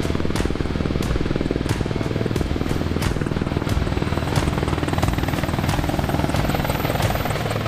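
An Apache attack helicopter flies nearby, its rotor chop pulsing rapidly and steadily over a loud, continuous engine roar.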